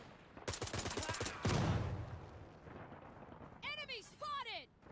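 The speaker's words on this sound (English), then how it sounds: "Flashbang." A flashbang grenade goes off in a first-person shooter game, a loud sudden blast with a washing roar that decays, surrounded by rattling game gunfire and a short voice line.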